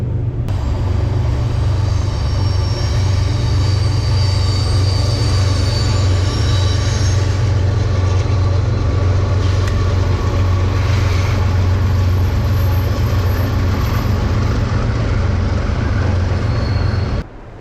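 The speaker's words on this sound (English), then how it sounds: "Hear the CSX train coming through Sykesville." A CSX freight train rolls past at Sykesville beside a river, a loud continuous rumble of wheels on rails with squealing metal, steady for the whole stretch before cutting off.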